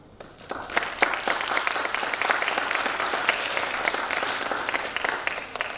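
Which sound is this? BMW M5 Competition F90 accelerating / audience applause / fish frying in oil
audience applause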